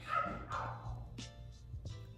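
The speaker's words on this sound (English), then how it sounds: "You can definitely hear my dogs." Pet dogs bark indoors in a few short, muffled yaps spread across a couple of seconds, fairly faint and off to the side in a quiet room.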